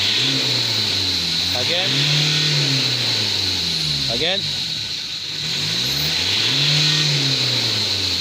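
A Ford Ranger engine idles steadily and is revved in several rising and falling pulls, heard close with a constant high whine over it and a brief spoken word in the middle.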